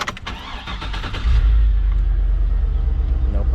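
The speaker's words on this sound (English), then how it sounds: "seeing if the car starts on again" A car engine cranks and catches after a battery wire install, then settles into a loud, steady low idle rumble heard up close.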